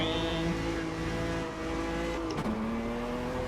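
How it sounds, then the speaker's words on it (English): A Brazilian stock car engine screams at maximum RPM in second gear during a race, a loud, steady high-pitched whine that dips sharply in pitch near the end before settling into a lower sustained drone. "the thing is just singing, you know, the thing is maxed RPM"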